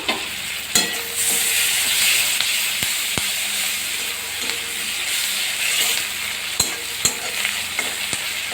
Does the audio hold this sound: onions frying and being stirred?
yes